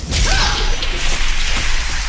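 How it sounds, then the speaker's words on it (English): Buster cannon attack in a video game raid, a loud, dense whooshing blast with swishing sweeps that fills the short moment without pause. "Buster cannon, dodge it."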